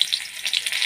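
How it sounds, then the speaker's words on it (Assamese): Onions sizzle in hot oil in a kadai, a short burst of bright, crackling frying close up. "এতিয়া কেৰাহীখন পাতি তেল গৰম হ'ব দি পিঁয়াজ দিম"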